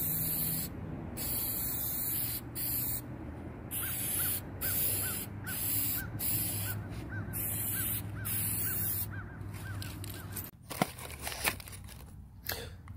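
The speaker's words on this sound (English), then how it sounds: "Just a good, nice, thick coat now that it's got something to stick to." Aerosol clear coat sprays onto a wooden farmhouse candle holder in a series of short and longer hissing bursts with pauses between them, while a crow caws repeatedly in the background and handling clatter follows.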